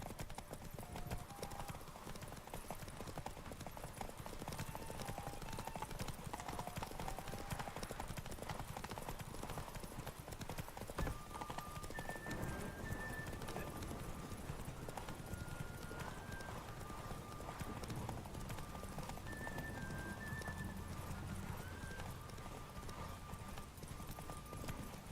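Horse Roach's hoofbeats clip-clop steadily throughout, a continuous galloping rhythm up close, with music-like tones above and an occasional whinny, in The Witcher 3: Wild Hunt video game.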